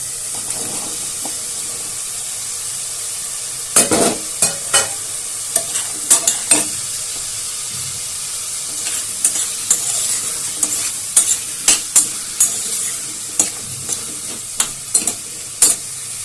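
Potatoes and Malabar spinach stems fry in a pan with a constant hiss of hot oil, while a utensil clinks and scrapes against the pan in irregular bursts; no talking.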